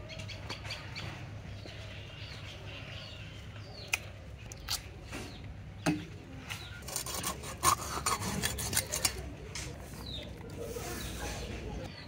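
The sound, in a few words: cutting hilsa fish into pieces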